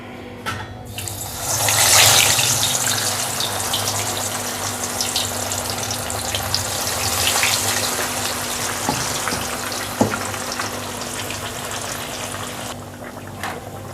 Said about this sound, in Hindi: तो अब हम इसमें फ़िश डालेंगे।